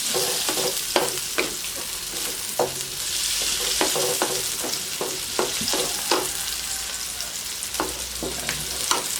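Native chicken adobo with oyster sauce is stirred in a hot pan, a steady sizzle broken by repeated scraping and clacking strokes of the utensil, close and alone.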